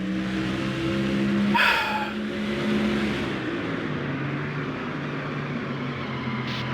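Stock cars roar around the track in NASCAR Thunder 2004, an engine revving and whining up and down with a passing car sweeping by, loud and continuous with no talk.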